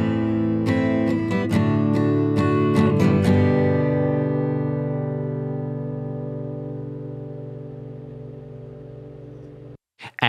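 An acoustic guitar is strummed through a PreSonus stock compressor in a recording studio, with a burst of rapid strums that settles into a long, sustained chord fading slowly to silence.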